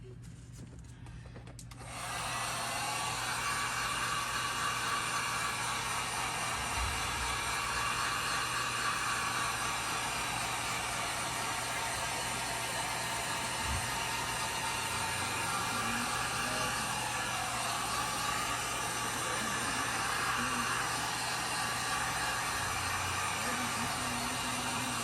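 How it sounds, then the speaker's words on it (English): A heat gun blowing over fresh resin on a painting, a loud steady roar that switches on after a brief quiet start and runs unbroken, close to the source. "let me get my heat gun again"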